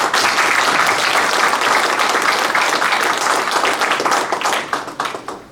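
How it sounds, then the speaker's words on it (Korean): A seminar audience gives loud, dense applause to a speaker, a close, sustained roar of clapping that thins into scattered individual claps near the end. "우리에게 피 끓는 좋은 말씀 해주신 남재수 원장님께 다시 한번 큰 박수를 부탁드립니다."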